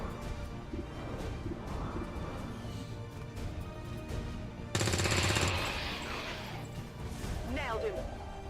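A sniper rifle shot in XCOM 2, one sharp loud crack midway followed by a short rumbling echo, set against game ambience with someone talking over it.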